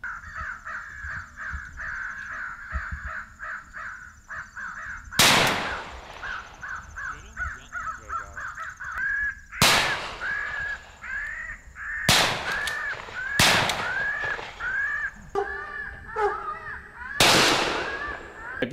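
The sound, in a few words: crows cawing during crow hunt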